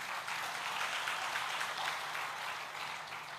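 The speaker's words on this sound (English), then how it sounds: "you can clap if you want to" Congregation clapping during a church sermon, a continuous wash of many hands heard at a moderate, somewhat distant level with no speech over it.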